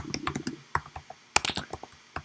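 Rapid clicking of keys on a school laptop keyboard during a typing test, close and fairly quiet, with irregular bursts of keystrokes and brief pauses.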